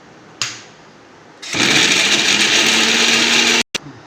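A mixer grinder whirring through grated coconut: a short click and brief start, then a loud, steady high-pitched motor roar that runs for about two seconds before cutting off abruptly with a quick restart blip.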